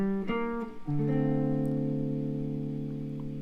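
Electric guitar soloing over a diminished chord, a few quick picked notes followed by a long sustained ringing note with harmonics, played alone and clear.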